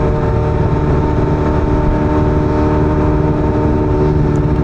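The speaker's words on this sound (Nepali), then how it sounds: "बाइकहरू टन्नै आइरहेछ पछाडि बाइ द वे।" Motorbikes pass on a North Sydney road near the Harbour Bridge, a loud, steady engine roar with a continuous hum and no clear gaps or pauses, heard from a moving bike.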